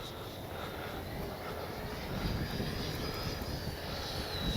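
An FMS Avanti S 70mm RC electric ducted-fan jet makes a slow, flaps-down pass into the wind, its faint whine rising and swelling as it nears, with wind noise around it.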